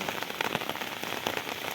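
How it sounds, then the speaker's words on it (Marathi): Heavy monsoon rain pours down on a farm in a dense, steady hiss of drops hitting surfaces, close and continuous throughout, with no voices. "पाऊस बघा किती जोरदार पडतो आहे थांबायचं नावच घेत नाही"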